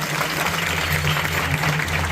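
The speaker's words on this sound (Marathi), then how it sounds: "आर्मीतल्या जवानांसाठी सगळ्यांसाठी एकदा जोरदार टाळ्या वाजवा." An audience at a devotional kirtan event claps loudly together, a dense, sustained burst of applause over a low background hum.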